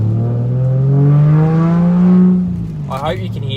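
A Subaru Liberty H6 accelerates hard on an open road, its six-cylinder engine note climbing loudly in pitch, then easing off before a brief high whine at the end.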